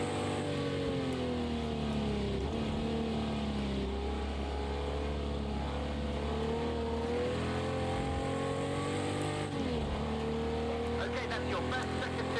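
A Jaguar E-Type engine in the racing game Project Cars 2 drones and revs continuously at Watkins Glen, pitch rising and falling with gear changes, steady and fairly close.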